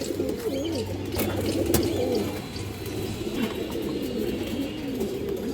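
Pigeons coo nearby in a loft full of breeding pairs, with repeated soft, warbling calls rising and falling over a low ambient rumble.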